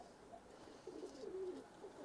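Tip bango pigeons coo faintly, a quiet rolling burble rising in the second half over a low background hush.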